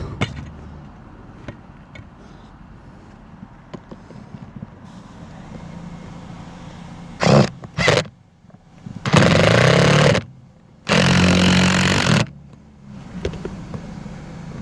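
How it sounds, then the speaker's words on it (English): Loud bursts of an impact driver driving a long screw into wood, a couple of short blips then two longer rattling runs, close up over a quiet background. "Let's see if we can hammer that one in with the impactor."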